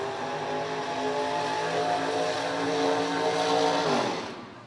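A brand-new LSX 440 cubic inch engine in a Corvette drag racing car revs high and loud, a steady harmonic roar that climbs and then falls away near the end, with no talk over it.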